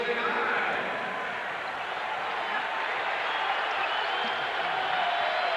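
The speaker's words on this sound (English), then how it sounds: "So the hometown crowd getting behind their Bucks with 1:30 to go in this third quarter" Hometown arena crowd at a 1995 NBA game in Milwaukee roars steadily behind the Bucks late in the third quarter, a dense continuous wash of cheering and applause heard along with voices.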